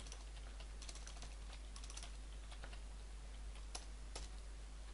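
Computer keyboard typing, scattered soft clicks in small irregular clusters over a steady low hum, moderately faint and close.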